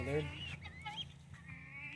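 Turkeys cluck and call in a farmyard, with a few short, throaty calls rising and falling close by, over a faint background.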